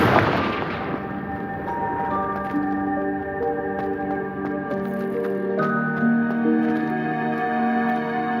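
A Confringo spell in the Hogwarts Legacy video game explodes with a sharp burst, then ringing magical tones and a layered shimmering tail fading over several seconds.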